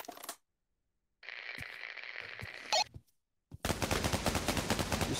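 Video game gunfire: a short burst of rapid automatic shots, then a brief silence, a sustained buzzing tone and a sharp clang, ending in a loud, fast rattling volley, all close and without speech.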